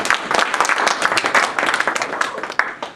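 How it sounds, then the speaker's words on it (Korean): An audience at a commemorative community event applauds, a short burst of close, brisk hand clapping from a modest crowd that fades toward the end. "감사하다고 박수."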